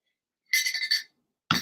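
A glass clinks in a short cluster of bright taps, followed after a pause by one more knock, as a smoothie is finished indoors.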